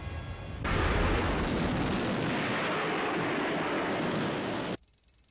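A large explosion from a detonation in the Thunderbirds series bursts in suddenly and loud, holding as a sustained broadband roar for about four seconds before cutting off abruptly.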